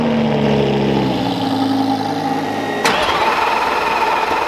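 A Lamborghini LM002 truck engine cranks and fires up in the first seconds, then settles into a loud, steady idle that holds close by after a sharp click near the three-second mark.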